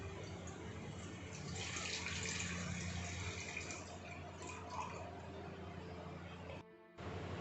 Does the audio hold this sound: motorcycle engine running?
no